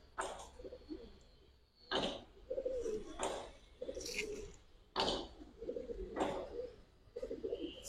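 Old-breed Giribaz pigeons coo in low, repeated phrases, mixed with sharp, loud knocks or rattles from the loft every second or so.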